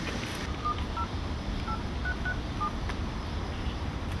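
Telephone keypad tones beep one after another as a number is dialed to reach a car owner, about six short tones spaced irregularly over steady outdoor background noise.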